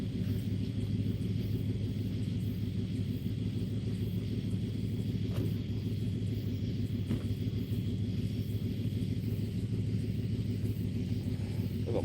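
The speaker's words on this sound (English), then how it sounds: "That's a loud truck." A loud truck idles and rumbles steadily near a busy public fishing spot, a deep continuous drone that holds for the whole stretch without pause or talk.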